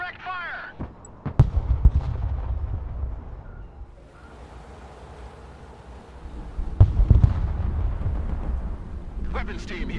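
An artillery strike in a war video game, with heavy, rumbling booms in two loud clusters and a lower rumble between them, mixed with shouted voices and radio-like chatter.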